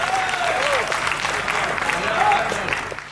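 Audience at a Hindi poetry recital breaks into loud, sustained applause, a thick continuous clapping wash with a few voices and a brief exclamation mixed in.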